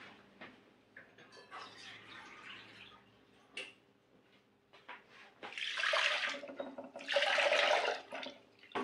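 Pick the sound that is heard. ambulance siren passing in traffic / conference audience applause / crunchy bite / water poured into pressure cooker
water poured into pressure cooker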